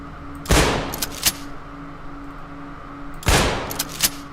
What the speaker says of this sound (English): Let's see what the beanbag shotgun does.